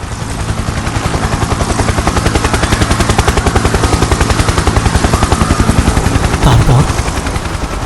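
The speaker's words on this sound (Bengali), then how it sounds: "হেলিকপ্টার মাথার উপর নেমে এলো।" A helicopter's rhythmic rotor thudding pounds steadily close overhead, mixed with bursts of gunfire throughout, loud and sustained.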